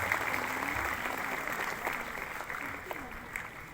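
Students at a high school in Indonesia give a moderate, steady round of applause during an official's visit, a continuous wash of clapping with some voices mixed in.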